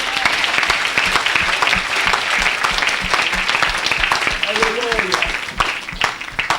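A church congregation applauds and acclaims the Lord with loud, sustained clapping and cheering, while voices speak over the steady applause.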